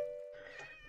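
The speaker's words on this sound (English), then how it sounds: "There's a cat down here." Cat in Minecraft giving a single short, fairly quiet meow, with tonal harmonics over a soft background hum.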